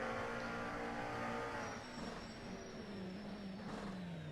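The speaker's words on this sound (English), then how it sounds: "you can hear the traction control just cutting in a little bit" A race car under hard braking at Spa-Francorchamps in an IMSA Global Series round: a loud, close engine note drops in pitch while the traction control cuts in with a brief stuttering, uneven roar, and tires hiss faintly underneath.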